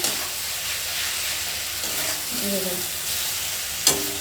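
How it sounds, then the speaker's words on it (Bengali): Seasonal country mushrooms fry in oil in a pan with a continuous close sizzle, a brief stirring scrape near the end, and no talking. "আমি মাশরুমগুলো ভালো করে লাল লাল করে এরকম ভেজে নিচ্ছি"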